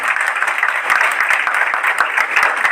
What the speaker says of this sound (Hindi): एक बार बच्चों के लिए जोरदार तालियां बजाएं।